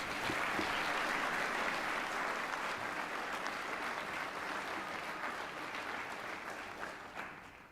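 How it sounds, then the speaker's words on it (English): Banquet crowd applause at a technical student of the year awards evening, a broad continuous wash of many hands clapping that holds steady and slowly fades toward the end, heard from some distance. "Let's give all of them another round of applause."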